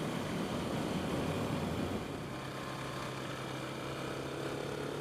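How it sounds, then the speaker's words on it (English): A KTM 690 Enduro single-cylinder motorcycle engine revs fairly high, a steady, rattly drone that holds close and loud through the whole stretch, settling slightly partway through. "I'm revving this a little high maybe too"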